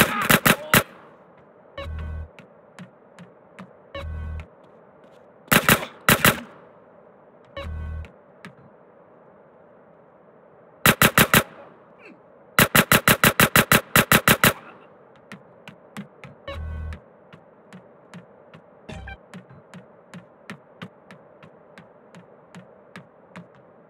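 Bursts of automatic gunfire from the video game Grand Theft Auto San Andreas, loud rapid volleys in clusters with isolated single shots and low thumps between, over a steady background hum.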